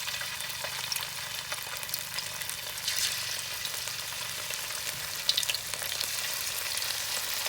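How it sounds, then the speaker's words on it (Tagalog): Steady, close sizzling and crackling of buffalo chicken wings frying in hot oil, continuous and fairly loud, with occasional sharper pops. "Piprito muna natin guys."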